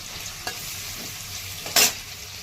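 Cumin, garlic and onion fry in hot oil with a steady, close sizzle, marked by a light tap of a utensil and then a sharper burst of spattering near the end.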